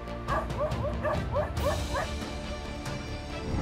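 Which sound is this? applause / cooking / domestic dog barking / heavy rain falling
domestic dog barking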